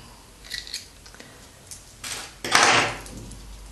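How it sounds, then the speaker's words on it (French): Scissors snip through crochet yarn while finishing a Minions slipper, a couple of light clicks followed by one louder, crisp close-up cut near the end, with no talking. "On va couper juste un petit peu pour être à l'aise."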